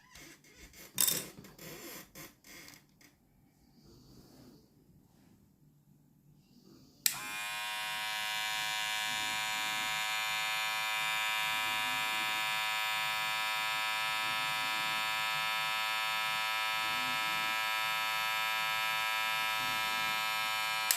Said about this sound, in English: since I got this balding clipper. I have to say it's a good one